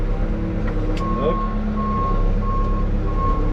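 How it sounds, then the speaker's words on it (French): Repeated reversing beeps from a new farm loader sound at a steady rhythm, close and clear, over a continuous low diesel engine rumble. "Toujours le bip de recul obligatoire."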